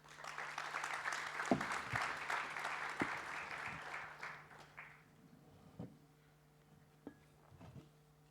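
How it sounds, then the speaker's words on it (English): Audience at a policy conference applauds the panelists, a full burst of clapping that thins out after a few seconds into scattered claps and a quiet room. "So please an applause for them"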